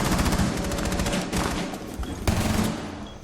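Rapid automatic gunfire from Rainbow Six Siege, a dense continuous barrage of loud shots with brief pauses, no talking.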